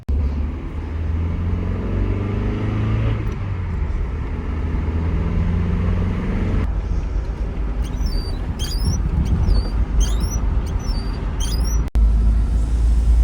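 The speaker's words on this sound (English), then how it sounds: "So we're gonna go for a very short test drive" A car on a brief test drive to check its suspension, with a steady engine and road rumble close by throughout and no talk.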